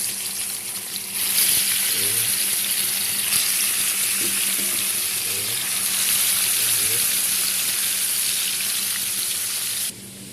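Puti fish (swamp barb) frying in hot oil, giving a steady, loud, close sizzling hiss that swells after the first second and runs almost unbroken, with a few faint low clunks beneath.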